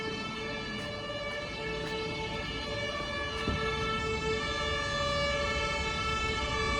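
Emergency vehicle sirens from New York police, fire and ambulance units wail steadily at a moderate distance. Sustained tones hold under a constant street rumble, with no talking.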